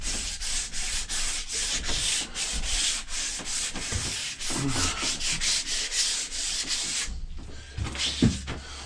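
An axe being sanded during restoration, with quick rhythmic back-and-forth rasping strokes close by, a brief pause near the end, then a few more strokes.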